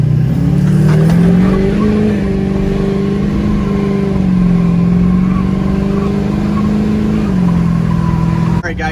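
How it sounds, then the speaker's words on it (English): A stock Duramax diesel pickup truck accelerates hard from a dead stop, its engine note climbing and holding a loud, steady drone for several seconds before cutting off abruptly near the end. "so that was from a dead stop, and she was a little squirrely. I didn't get a lot of traction"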